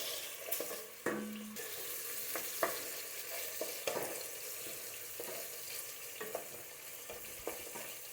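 Bay leaf, cardamom, cinnamon and onion fry in white oil, heard as a continuous sizzle broken by frequent clinks and scrapes of stirring, close and fairly clear.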